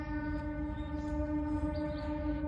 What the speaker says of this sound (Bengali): ট্রেনের আওয়াজ আসছে